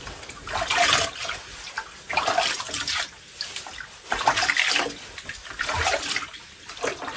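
Hot water poured into a bucket at home for a foot soak, with uneven splashing surges and gurgles coming in bursts of a second or so, close by and fairly quiet, without talking.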